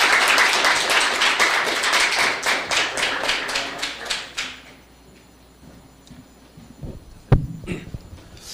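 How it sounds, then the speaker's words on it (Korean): An audience at a summer school lecture event gives warm applause to welcome a space-company CEO to the stage. There is a burst of dense, close clapping for about four seconds that tapers away, followed by near quiet with a few scattered thumps. "뜨거운 박수로 환영해 주시기 바랍니다"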